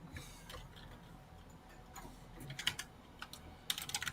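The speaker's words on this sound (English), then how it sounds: "You hear rapid typing upon this computer" Rapid typing on a computer keyboard in a sci-fi setting, quick irregular clicks at first faint, then bursts of louder clustered keystrokes toward the end, heard alone.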